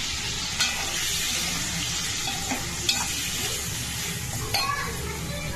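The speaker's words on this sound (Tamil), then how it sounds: "ஆயில் சூடான உடனே இந்த மாதிரி வேக வச்சு உருளைக்கிழங்கு வச்சுக்கோங்க. அதை அப்படியே அந்த ஆயிலில் போட்டு" Boiled potatoes fry in hot oil in a pan while being stirred, a close, steady sizzle broken by a few scraping stirs of the spoon, with no voices.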